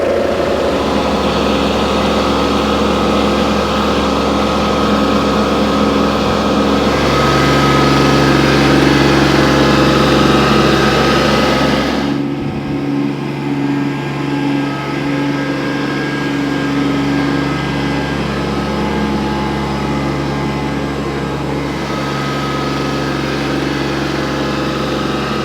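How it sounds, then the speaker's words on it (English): A tractor engine runs steadily throughout, a loud, continuous low drone with a rough idle-like rumble from an operator riding it on a first drive, sounding close and unbroken with no talking. "Well, I'm on the tractor, give it a go for the first time. Obviously it's a little bit noisy"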